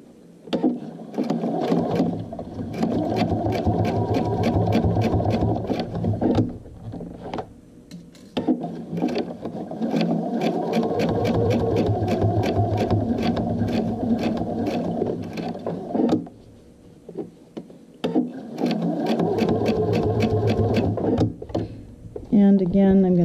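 A home sewing machine runs along a garment seam in three long stitching bursts separated by short pauses, a close, steady mechanical whirr.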